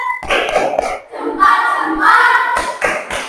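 A classroom group applauds together in short rhythmic bursts of hand claps, loud and close, pausing briefly before a longer run of clapping.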